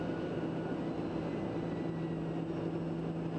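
Inside a TBM 940 airplane climbing after takeoff, a steady loud cabin drone of engine and airflow with a persistent hum, continuous and unbroken throughout.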